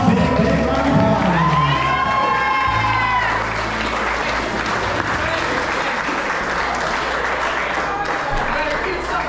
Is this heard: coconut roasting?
no